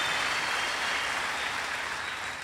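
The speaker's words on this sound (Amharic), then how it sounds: "ቴንክ ዩ ብላችሁ አጨብጭቡለት።" A church audience claps for a young man, giving a dense, steady wash of applause that carries on evenly without any talking.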